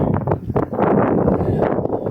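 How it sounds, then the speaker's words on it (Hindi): Strong wind roars steadily against the microphone on the trek to Vasudhara Falls near Badrinath, a loud continuous buffeting rush with a few sharper gusts, no voices. "बहुत तेज़ हवा चल रही है"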